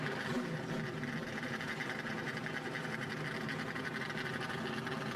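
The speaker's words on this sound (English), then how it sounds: "The engines are fired." NASCAR Craftsman Truck Series truck engines fired up together at Talladega, a steady loud droning rumble of many engines idling with a thick buzzing texture, continuous throughout with no voices.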